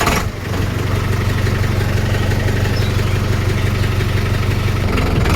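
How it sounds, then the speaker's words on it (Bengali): A Sonalika 750 farm tractor engine catches after a short start and settles into a loud, steady diesel idle with an even low throb. "গাড়িটা স্টার্ট দিই এখন।"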